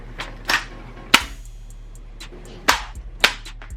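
A pink Thermold plastic rifle magazine is pushed into a rifle's magazine well, making a handful of sharp, close plastic clacks and snaps spaced irregularly over a low background hum.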